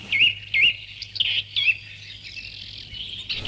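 Birds chirp in a green pine forest at Tiffindara, giving bright, clear calls in short bursts about half a second apart, then quieter twittering.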